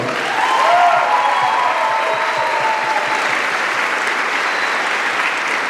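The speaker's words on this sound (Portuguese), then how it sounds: "Vamos aplaudir, pessoal?" Warm, sustained applause from a large audience at a youth apprentice workshop, a dense even wash of clapping with a brief whoop near the start and faint voices within.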